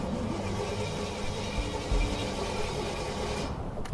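The blown engine of a Jaguar rat rod car runs with a rough, loud mid-pitched drone, steady and close, with a few heavier low thumps partway through before it cuts off.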